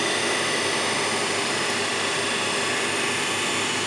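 A separately excited DC shunt motor runs at about 1534 RPM, producing a steady, loud, broadband whirring hum with no change and no voices.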